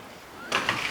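Nissan Hardbody front suspension lever shifting as the chassis lowers, giving a brief creak followed by a short clunk and scraping rattle, close by.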